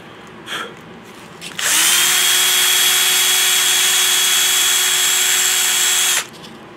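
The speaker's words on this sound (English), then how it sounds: "it up in a drill or in your lathe and run it into some sandpaper." A power drill spins up and runs steadily for about four and a half seconds, a pistol kit's small metal tang bolt turned against sandpaper, a loud close whine with gritty abrasive hiss, then stops abruptly.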